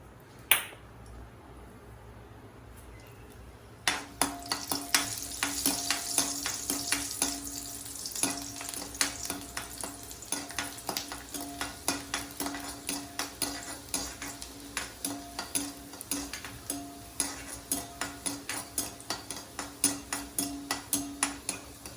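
Steady oil sizzle in a pan as chopped garlic fries, with rapid crackles and light metallic scrapes of stirring, starting after a quiet moment and continuing throughout.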